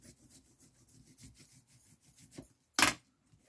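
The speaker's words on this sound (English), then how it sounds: "on the back you can burnish the glue that is on the back of your block to the back of your hardcover" Burnishing the adhesive back of a sticky note block onto a hardcover: soft, repeated rubbing strokes in a steady rhythm, close and quiet, ending in one sharper, louder scrape near the end.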